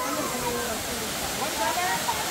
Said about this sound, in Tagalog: Ay na po ang falls.